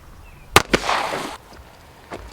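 Pistol fire from 124-grain +P 9mm rounds striking plastic water jugs outdoors: two sharp, close cracks in quick succession, a brief splashing burst of water, then one fainter shot after a pause.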